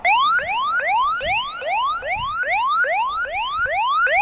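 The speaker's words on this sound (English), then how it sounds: "Pop the alarm on." Loud car alarm close by, repeating a rapid rising whoop about three times per second without pause.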